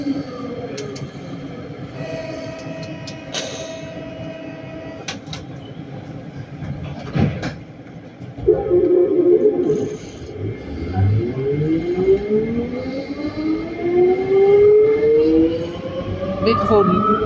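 Metro trains passing through Triolo station on the Lille métro, a rumbling rolling roar that swells partway through with rising and falling whines of motors, fairly loud and close, with a few short tones early on.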